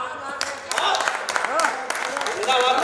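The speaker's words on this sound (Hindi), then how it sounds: "तालियां उठाना" An audience at a Rajasthani kavi sammelan poetry recital claps under a poet's loud, emphatic voice, the applause running beneath the speech throughout.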